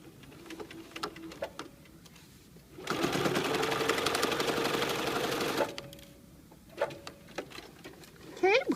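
A sewing machine runs in one steady burst of about three seconds while finishing a French fold binding on fabric, with a voice talking before and after the stitching.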